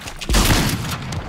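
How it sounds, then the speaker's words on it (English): A single loud, close sniper rifle shot in Fortnite booms with a sharp crack, then its echo rolls away over about a second. "I missed my shot."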